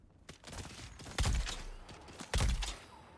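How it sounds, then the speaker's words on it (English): Shotgun blasts in the sci-fi survival game Dune Awakening: two heavy booming shots about a second apart, each with a sharp crack and rumbling tail, among a few lighter pops. "Damn shotguns."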